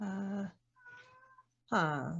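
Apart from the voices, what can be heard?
domestic cat meowing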